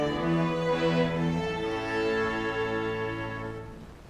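An orchestra sounds a perfect cadence: sustained chords resolving over about four seconds, full and steady before fading at the end, with no talk.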